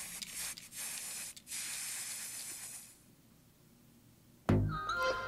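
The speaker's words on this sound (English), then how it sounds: "It's a cool little spray paint thing." A spray paint can hisses in several loud bursts during a music video, then falls quiet before a sharp thump and brighter rattling sounds.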